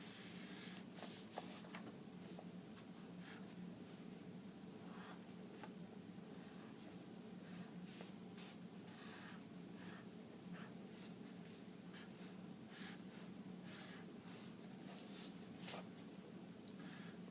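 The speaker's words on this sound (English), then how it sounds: "Let me draw it very quickly." A pen drawing a ribbon shape on paper, giving soft, quiet scratchy strokes in short bursts over a steady low background hum.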